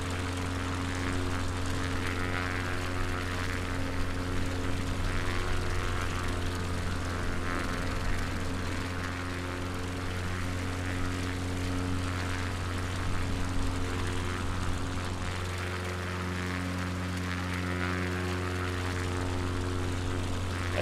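A small propeller plane flies on a coastal tour over Aberdeenshire toward Balmoral and Lossiemouth, heard from inside the cabin as a loud, steady engine drone that holds evenly throughout without any talk.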